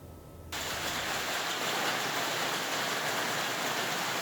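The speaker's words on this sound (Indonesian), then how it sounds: "Gemuruh angin kencang beradu dengan suara keras jatuhnya kristal es di atap rumah" Heavy hail driven by strong wind pounds house roofs in the Dieng highlands of Banjarnegara, Central Java, a dense, loud, continuous roar of ice hitting surfaces that swells up after a brief quieter moment.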